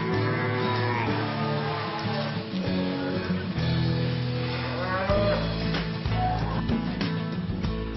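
Calves on a farm low and moo repeatedly, several close calls overlapping at feeding time as barley-based grain is handed out, with clattering and shuffling beneath.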